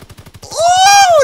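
Orso submachine gun firing in Call of Duty: WWII, a fast rhythmic burst of close shots, then a rising tonal whine over continued fire.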